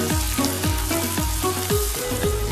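Fresh diced ginger frying in a pan for chicken biryani, a close, steady sizzle with soft rhythmic scraping as it is stirred.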